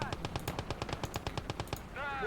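Rapid automatic machine gun fire in a war video game, a fast even string of about twenty close, sharp reports lasting two seconds, followed by a brief rising whine.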